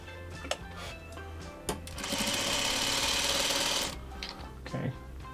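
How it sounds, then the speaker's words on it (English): A sewing machine stitches two quilt fabric pieces together right sides facing: a couple of clicks and handling knocks, then a fast even whirring run of stitches for about two seconds before it stops, followed by quiet handling sounds. "I'm going to just sew these two together"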